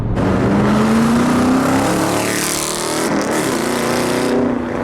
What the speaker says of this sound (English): The sound that this car makes, I mean, I just cannot get enough of it.